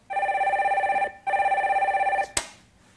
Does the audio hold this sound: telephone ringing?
yes